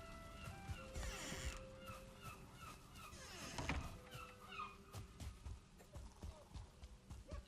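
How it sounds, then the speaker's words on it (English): Loud bird calls and caws in the Valheim game world ring out in several bursts, mixed with soft thumping footsteps and other game ambience. "Birds are loud."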